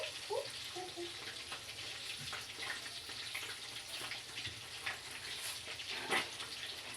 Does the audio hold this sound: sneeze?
no